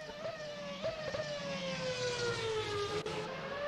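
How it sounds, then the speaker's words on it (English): A Ferrari F2007 Formula 1 car with a V8 engine at the Top Gear test track, its high-pitched engine note screaming close by, pitch sliding slowly downward with brief shifts, loud and steady with no talk over it. "Bit of a change in engine note as we're using V8s now."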